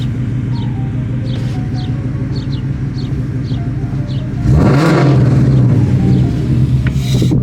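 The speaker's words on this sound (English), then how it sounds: "I'll give you guys a quick rev." A car engine idles steadily up close, then gives one quick, loud rev that rises and settles back, while faint chirps sound in the background.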